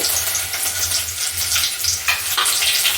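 Spices spluttering in hot oil for sambar with ginger and garlic, a loud close crackling sizzle with sharp popping bursts throughout.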